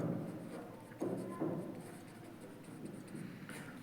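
Pen writing by hand on paper, a faint, steady close scratching with a few slightly firmer strokes against a quiet background.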